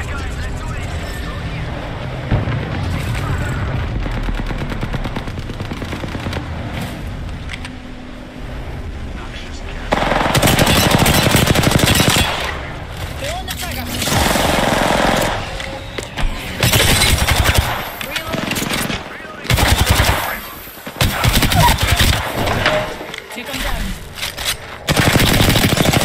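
Bursts of automatic gunfire crackle loudly through an Apex Legends firefight near the closing ring, with sustained volleys and short pauses between them and game voice lines mixed underneath.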